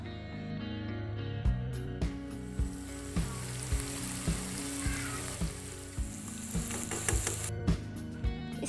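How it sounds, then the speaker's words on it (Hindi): Onion paste for chicken curry fries in a pan, a continuous close sizzle broken by regular soft knocks of a spoon stirring, with no voices. "ऐड करने के बाद हम इसको 5 मिनट के लिए कलर चेंज होने तक पकाएंगे।"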